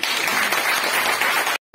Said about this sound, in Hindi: गुजारिश करती हूँ कि जोरदार तालियों से स्वागत किया जाए।